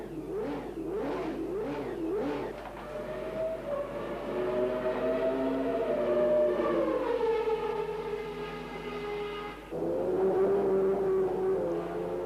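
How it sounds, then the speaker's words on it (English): A new Honda engine howls in a McLaren Formula 1 car on track during Friday qualifying for the 1990 French Grand Prix at Le Castellet. The high-revving wail rises and falls through gear changes as the car passes, loud and alone. "It also shows the confidence that Honda have in the new engine to test it for the first time in public. It sounds different, as McNish found out."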